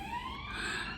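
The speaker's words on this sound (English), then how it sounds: "time I film there's a siren" A siren wails steadily outdoors throughout, its pitch sweeping slowly upward, moderately loud and passing by the filming spot with no talk over it.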